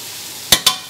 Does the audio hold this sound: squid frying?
yes